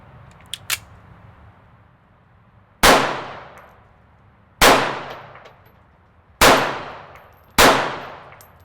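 Four sharp shots from a Smith & Wesson M&P 380 Shield EZ pistol at an outdoor range, evenly spaced about two seconds apart, each a loud crack with a quick decaying ring after a few faint clicks.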